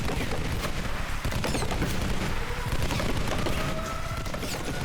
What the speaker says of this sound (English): Man, that is a hell of a gun.